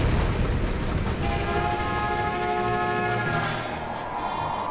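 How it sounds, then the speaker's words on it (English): A train rumbles past in Super Mario Galaxy 2, with a low mechanical roar and a sustained horn-like tone rising over it, fairly loud and fading slightly toward the end. "Sounds like a train."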